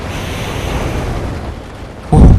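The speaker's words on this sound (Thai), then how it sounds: "ระเบิด" A single loud, heavy burst of an explosion in the game Enlisted erupts near the end, following a stretch of rumbling, noisy background.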